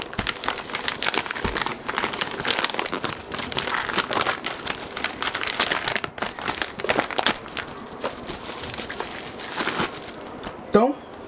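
Firm padded mailing envelopes being crumpled and torn for several seconds, continuous close crinkling and crackling with sharp rustles, ending in a brief louder rip.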